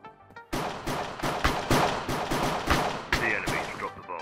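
A string of sharp, loud pistol shots from Minecraft's Hypixel Cops and Crims game cracks out in quick succession, about ten close bangs with brief gaps between them, each with a short ringing tail.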